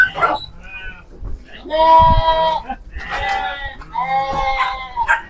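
Sheep bleating repeatedly while being herded through a pen into a rest area on a farm, several loud wavering calls overlapping one another nearby.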